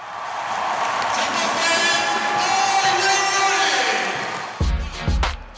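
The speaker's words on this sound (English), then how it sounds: "The sold-out Palestra crowd came to see two teams on quite a roll." A sold-out crowd at the Palestra roars and cheers steadily for a late-morning Temple versus Maryland college basketball game, a dense, loud wall of voices that swells and then breaks into a few sharp bursts near the end.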